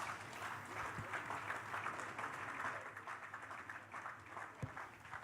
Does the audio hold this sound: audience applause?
yes